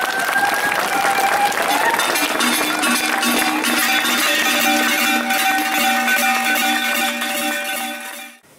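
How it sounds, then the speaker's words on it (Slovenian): Audience applause on an outdoor plaza in Ljubljana for the Vrbiške šeme carnival masks, steady full clapping with a crowd murmur, sustained ringing tones running through it, then quickly fading out at the end. "En aplavz za nje."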